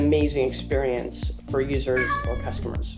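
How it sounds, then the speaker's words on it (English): Pet cat named Lucy meowing loudly several times in a row, up close, mixed in with a person talking. "And that was my cat, by the way"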